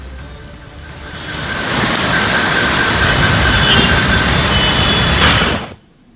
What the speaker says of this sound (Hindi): कई जिलों में तेज आंधी तूफान के साथ जमकर बारिश हुई है।